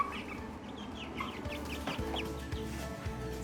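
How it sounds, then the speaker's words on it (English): Chickens cluck and chirp in an indoor brooder inside an unfinished bathroom, a busy overlapping chatter of short calls over a constant low hum, close and moderately quiet. "the chickens are still in my bathroom"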